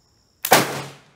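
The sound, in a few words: rifle firing Bulgarian 8mm surplus ammo with hang fire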